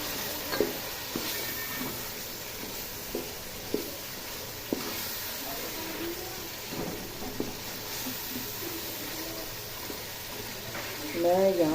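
Boiled white chickpeas roast in a pan for chana pulao, a low steady sizzle with occasional spoon scrapes and small clicks, moderately faint, with a voice speaking over it.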